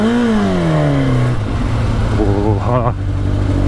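A Kawasaki motorcycle engine revs loud and close, its pitch sweeping down and then climbing again in quick rising bursts, with a voice speaking over it.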